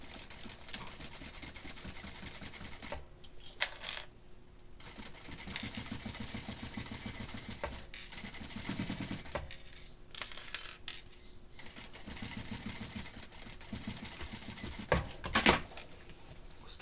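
A sewing machine stitches seams along a fabric case for holding clean and dirty face masks, running in steady bursts broken by short pauses, close and fairly quiet, with no talking.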